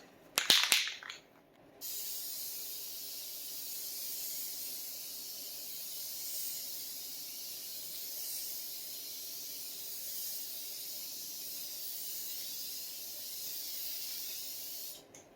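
Spray paint hissing onto sign vinyl: a short sharp burst, then one long continuous steady spray lasting over ten seconds, close and fairly loud, with no talking.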